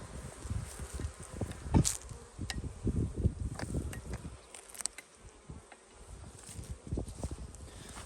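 Honeybees buzzing around an open hive with a six-frame colony during spring expansion, a steady insect hum with scattered louder passes close by, plus occasional knocks and handling sounds.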